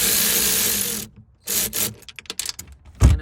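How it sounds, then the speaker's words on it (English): Ratchet with a 10 mm socket loosening the battery terminal on a BMW E46, loud close clicking pawl bursts in several spurts with brief pauses, then a heavier clunk at the end. "we want to disconnect the battery here, which this is a 10 millimeter socket"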